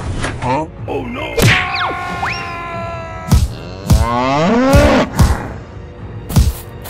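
An animated giant cow lets out drawn-out, wavering moos amid cartoon thumps and whacks, loud and close.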